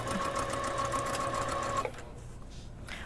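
A domestic sewing machine runs a top stitch along a folded sleeve hem, giving a steady, close mechanical whir with rapid needle clatter for about two seconds before it stops, leaving quiet handling noise.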